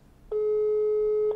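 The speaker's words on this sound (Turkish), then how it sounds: "Bir de bir telefon görüşmesi yapalım." One steady electronic phone tone, the kind heard while calling another phone, holds for about a second and stops cleanly.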